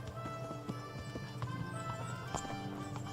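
Horse hooves in the video game Kingdom Come: Deliverance, heard as a quick, steady clip-clop of trotting under a low background hum, moderately near.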